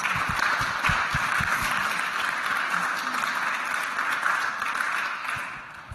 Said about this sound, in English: So if we could give our panel a round of applause for their words